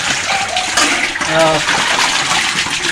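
A steady, strong rush of water pours continuously from a pipe, with a voice speaking briefly over the flow.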